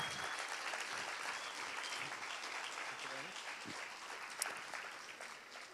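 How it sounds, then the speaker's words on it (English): An audience at a horse breeders' panel applauds in a long, even wash of clapping, moderately loud and sustained, with a faint murmur of voices beneath it. "Can you please put your hands together for Dr."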